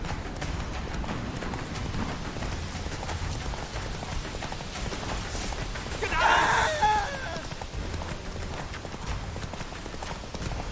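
Geralt's horse Roach galloping hard in The Witcher 3, a steady rapid clip-clop of hooves under rain-like ambient noise, with a brief louder swell of game sound midway.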